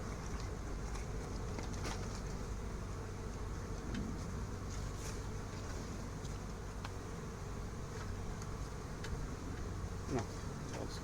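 A honeybee swarm being gathered during a swarm capture outdoors in Santeny, a dense steady buzzing hum that stays even and fairly faint throughout, with no voices.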